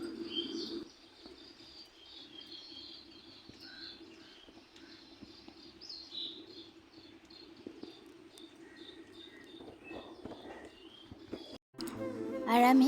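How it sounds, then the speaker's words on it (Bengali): Birds chirping and calling outside an open window on a partly cloudy day, with several short, faint, scattered calls over a steady, low background hum. "তার মধ্যে পাখি ডাকছে"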